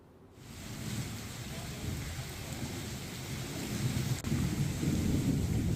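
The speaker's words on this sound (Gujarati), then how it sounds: "જામનગરના કાલાબડમાં પણ ગાજવીજ સાથે વરસાદ પડ્યો છે" Heavy rain pours during a thunderstorm in Kalavad, Jamnagar, a dense, loud roar of falling water with low rumbling thunder underneath, swelling steadily with one brief dip near the end.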